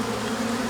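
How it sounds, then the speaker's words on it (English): Honeybees shaken off a hive frame swarm with a steady, close, loud buzzing drone, continuous and unbroken through the short moment. "I'll just shake these bees."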